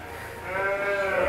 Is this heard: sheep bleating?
yes